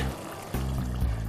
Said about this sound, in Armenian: ավելացնում ենք եռացած ջուր մի փոքր